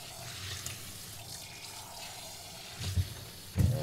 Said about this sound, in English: and rinse out the barrel